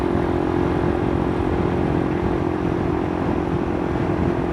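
A Barako 175cc motorcycle engine with worn Euroflash brake lining, droning at a steady, even pace under continuous road and wind noise while riding, with no one speaking.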